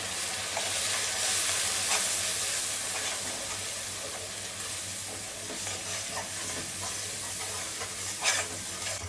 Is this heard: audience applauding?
no